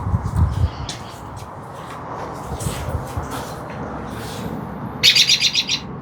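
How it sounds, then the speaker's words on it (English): A bird chirps in bursts near an abandoned bowling alley, loud bright tweets at the start and a sharp rapid trill toward the end over a low outdoor rumble, no talking. "That bird scared me."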